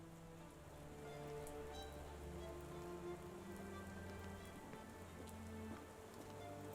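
Steady rain falls on surfaces in a Victorian-era Sherlock Holmes: The Awakened game scene, a dense, even patter holding at a constant level throughout with a low ambient hum beneath and no one talking.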